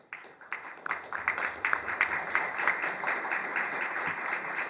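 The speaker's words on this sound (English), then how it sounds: "Hold your applause until I give all the names." An audience at a NASA event applauds a lineup of commercial spaceflight pioneers. The clapping starts suddenly, then swells into steady, moderately distant applause that carries on evenly to the end.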